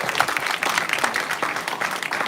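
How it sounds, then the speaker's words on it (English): Festival audience applauds after a film screening, a steady, dense wash of clapping from many hands that holds at an even level throughout. "Another round of applause for that wonderful film."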